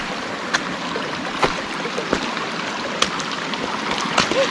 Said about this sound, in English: We're just going to go through the water.